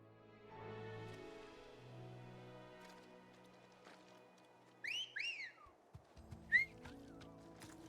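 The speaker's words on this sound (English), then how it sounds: "That was an odd whistle." A whistle summons a chocobo in Final Fantasy XVI: a few quick rising and falling whistled notes mid-way, followed by a brief chirpy call, over quiet game music.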